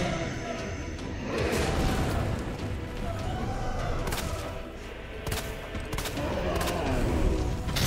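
Gunshots from the final showdown in the video game Resident Evil 2 crackle and pop over a steady, noisy wash of combat sound, with sharp reports recurring every second or so across the stretch.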